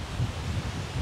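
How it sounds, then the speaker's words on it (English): Gusting wind buffets the microphone lakeside at Lake St Clair, a steady low rumble with soft swelling surges for the whole second. "Oh, this wind has picked up."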